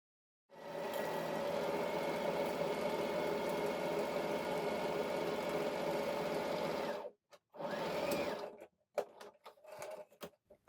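Sewing machine stitching a jeans yoke seam, running in a long steady whirring burst for several seconds, then stopping and restarting briefly before a few short stitch bursts and taps, all close and without talk.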